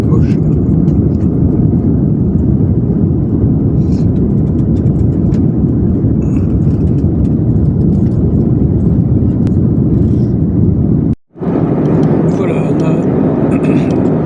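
Steady low roar of jet engines fills an airliner cabin in flight over Kazakhstan, constant and close, with someone speaking briefly over it and a short cut near the end.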